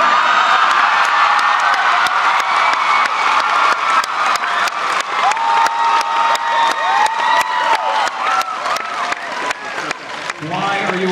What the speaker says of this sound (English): Why are you all cheering?